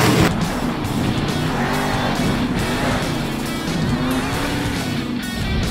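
In the Monster Jam Steel Titans 2 video game, a monster truck's engine drones loudly and continuously while its tires squeal and skid, the engine pitch wavering up and down throughout.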